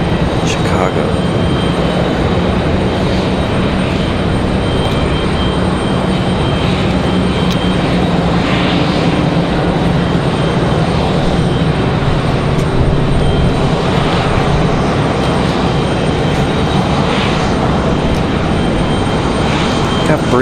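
A Republic Airways airliner arriving from Chicago O'Hare rumbles steadily and loudly throughout, a broad continuous engine roar with no letup, as a voice talks over it.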